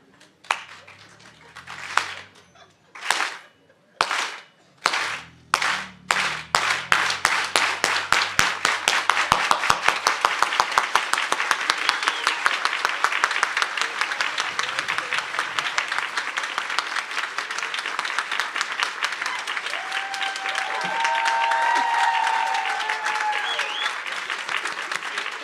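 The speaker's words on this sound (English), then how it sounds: "I want y'all to help me with a clap." Audience clapping at an outdoor community event: a few slow, loud, separate claps build into fast rhythmic group clapping, then merge into sustained applause with crowd noise and some cheering toward the end.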